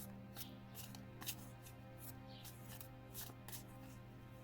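Tarot cards shuffled by hand in a quiet room, a steady run of soft riffling and flicking with brief sharper snaps over a low constant hum, close and fairly faint.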